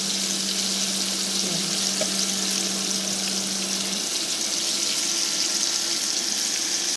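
Food fries in a hot pan in a busy home kitchen, giving a loud, steady sizzle that runs unbroken throughout, with a faint low hum under it for the first half.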